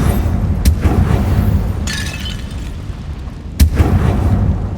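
Confringo blasting spells cast in the Hogwarts Legacy video game, two sharp explosive bursts about three seconds apart over a dense, rumbling game soundscape.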